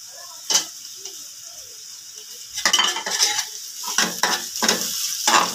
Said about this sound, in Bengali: পেঁয়াজগুলো ভাজা শেষ। এবার দিয়ে দিচ্ছি এতে টমেটো।